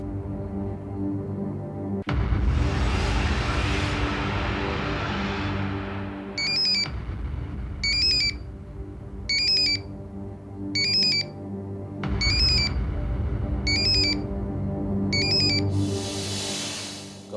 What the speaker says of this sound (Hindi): घंटी आपके मोबाइल पर बज रही।